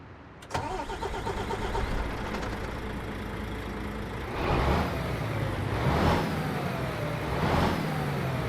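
A Volvo F Series vintage truck with a 12-speed gearbox in Euro Truck Simulator 2 cranks and fires into a steady diesel idle, followed by three gentle revs that swell and fall back, heard alone with no talk.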